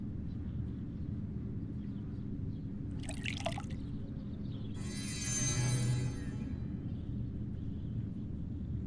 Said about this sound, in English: I poured the water into the bowl.